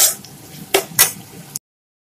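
Brinjal and fish intestine fry in a pan with dried red chilies, pressed down as they cook. A steady close sizzle carries two sharp clattering scrapes, then the sound cuts to silence.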